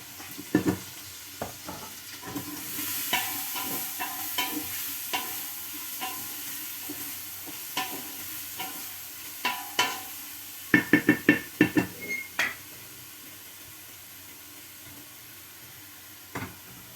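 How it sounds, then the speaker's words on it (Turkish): Meat browning in a pot for a Turkish bean stew with dried beans, sizzling steadily while a spoon scrapes and stirs in irregular clattering bursts, a cluster of sharp knocks near the end, no talk. "Onları da güzel kavuracağım etini"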